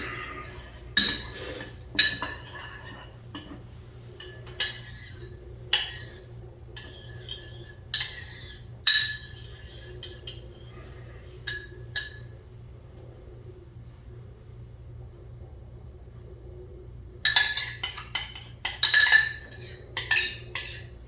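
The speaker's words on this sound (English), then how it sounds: "Okay, stir that up." A spoon stirs pizza sauce mixed with Italian dressing in a bowl, giving sparse clinks and taps against the bowl in a quiet room, with a clustered run of quick clinks near the end.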